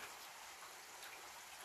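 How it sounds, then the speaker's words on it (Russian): Rain falls steadily as an even, faint hiss of drops on surfaces, with no voices. "Дождик."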